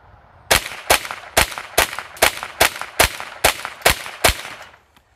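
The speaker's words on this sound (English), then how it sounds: "We'll start out here with 10 rounds of the Federal Auto Match ammunition" Ten rounds of Federal Auto Match ammunition fired from a semi-automatic rifle, sharp loud cracks spaced about half a second apart in an even rhythm, then silence.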